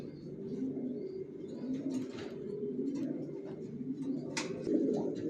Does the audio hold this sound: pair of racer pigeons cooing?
yes